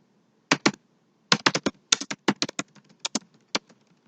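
Fingers typing on a computer keyboard, quick bursts of crisp key taps with short pauses between groups, close and alone.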